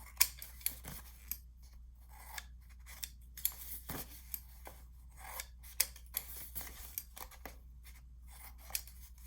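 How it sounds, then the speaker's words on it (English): Scissors snip off the corners of a paper envelope album cover, a series of small crisp cuts and paper rustles at an irregular pace, close but quiet in a still room. "So I'm just going to cut off the corners."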